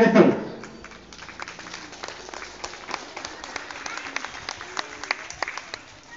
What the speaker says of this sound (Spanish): para que pida un fuerte y caluroso aplauso para estos jovencitos